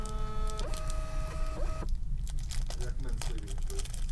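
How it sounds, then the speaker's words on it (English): A sticker printer feeds and prints stickers with a steady whirring motor tone that steps in pitch, then gives way to crinkly, crunchy paper rustling and tearing near the end. "I'm printing the stickers also as I get to each card."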